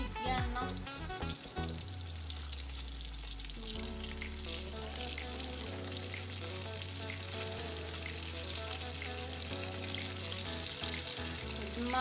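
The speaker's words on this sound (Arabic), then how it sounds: "دابا غادي نبداو نقليو السمك ديالنا. غادي نبداو السمك الابيض هو الاول" White fish fries in oil in a pan, giving a continuous, even sizzle that lasts throughout, with steady tones in the background.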